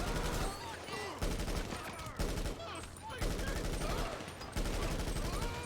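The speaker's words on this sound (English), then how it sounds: "Let's just use our assault rifle." Rapid assault rifle fire from a GTA video game rattles in dense, continuous bursts with short breaks, loud and close over game sounds and a talking voice.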